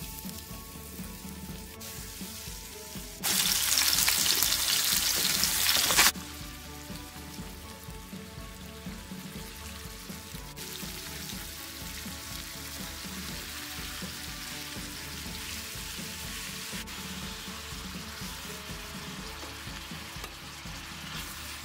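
Onions dropped into hot oil on a stove for a Nigerian meat pie filling burst into a loud broadband sizzle for a few seconds, then settle into a steady, quieter frying crackle that runs alone to the end.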